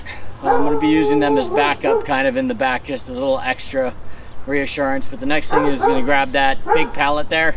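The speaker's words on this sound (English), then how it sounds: "sorry that's the neighbor's dog" A dog barks and whimpers from a neighbouring yard in a backyard being cleared of hay bales. The barking runs faintly beneath someone talking steadily throughout.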